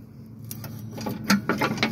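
Pulley on a Craftsman mower deck worked by hand to move its cable, a few close mechanical clicks and rattling taps that grow busier toward the end, with no talking.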